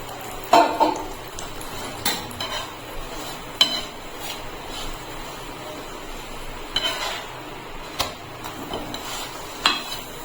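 A paratha frying in a pan with a little oil added: a low background sizzle carries frequent clinks and scrapes of a metal spatula against the pan, spaced irregularly across the clip.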